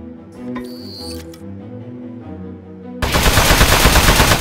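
Sudden loud burst of rapid rattling gunfire aimed at a metal enemy in Aperture Desk Job, cutting in sharply after a stretch of quieter tonal game music and effects.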